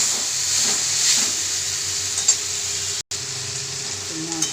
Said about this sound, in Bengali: মশলার জলটা দিয়েছিলাম, জলটা টেনে নিয়েছে, এবং ভালো করে পুরো কষে দিই